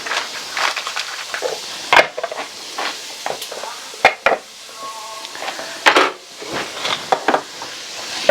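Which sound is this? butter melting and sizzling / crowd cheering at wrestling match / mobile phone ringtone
butter melting and sizzling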